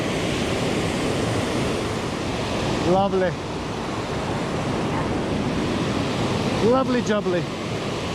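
A river rushes steadily along a mountain hiking trail, a broad and loud wash of water that fills the whole scene, while a hiker briefly speaks over it.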